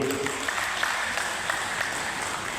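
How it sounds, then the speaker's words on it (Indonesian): Audience applause at a national work meeting in a hall, steady dense clapping throughout, moderately distant and even in level. "Tepuk tangan dulu."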